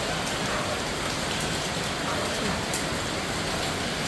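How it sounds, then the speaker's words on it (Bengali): Steady morning rain pours down in a dense, even wash of patter on surfaces, continuous and moderately close, with no clear voices. "ঘুম থেকে উঠেই দেখি বৃষ্টি"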